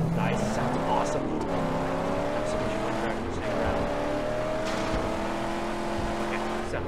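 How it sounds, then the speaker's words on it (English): A V6 car engine fitted with a dual air filter and air intake, driven in the Mad Max video game, revs with a steady climbing drone and shifting pitch, loud and close throughout. "Here's my V6 engine, dual air filter, air intake, and everything. Nice, sounds awesome."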